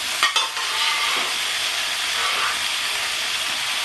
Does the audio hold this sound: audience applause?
no